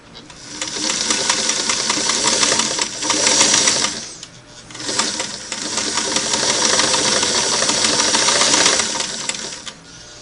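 A Singer Model 338 sewing machine runs a single-needle straight stitch in two steady, loud bursts with a short pause between, a fast even mechanical clatter heard up close with no talk.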